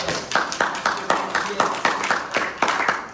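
Rhythmic clapping at an Arkansas ballot-measures town hall in Fort Smith, evenly spaced sharp claps in a steady beat, fairly close and loud throughout.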